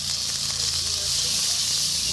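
Water splashed into hot oil and ghugni masala in a pan sets off a loud, steady sizzling hiss that fills the whole moment close up.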